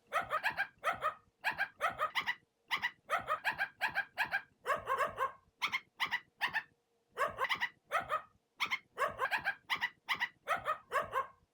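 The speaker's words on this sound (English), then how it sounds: "So now I'm only going to get dog barks from a random one of these rates" Dog barks sampled and replayed at random playback rates, so the pitch shifts from bark to bark, forming a steady run of short, loud bursts in quick groups of two or three with brief gaps, alone without talk.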